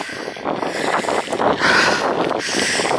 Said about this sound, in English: the wind's very fierce actually